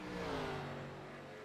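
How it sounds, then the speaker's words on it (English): Sim race car engine at Darlington drones loudly with a slowly falling pitch as the car eases off, a steady tonal whine over road noise. "You can still hear the engine, so the engine's not coming off."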